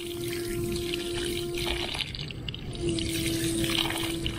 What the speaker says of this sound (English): The only thing I have to wash is my spork.